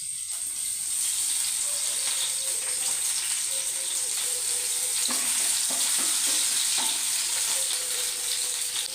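Sliced shallots and curry leaves sizzling in hot oil, a constant bright hiss with occasional spatters and stirring clicks, close and fairly quiet, no speech.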